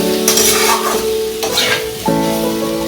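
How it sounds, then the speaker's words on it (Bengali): Pangas fish fries in hot oil with Kashmiri chili powder while being stirred in a pan, giving a steady sizzle broken by scraping strokes, with a sustained tonal hum in the background. "এটাকে আমি দশ থেকে বারো মিনিট ধরে এটাকে আমি ভেজে নেবো"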